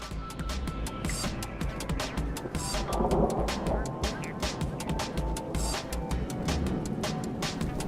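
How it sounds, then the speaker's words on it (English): Thunder in the video game Rain World rumbles heavily through steady pouring rain, a deep rolling roar that swells midway, with sharp crackling bursts scattered across the storm. "We've got the very epic thunder sounds to guide us."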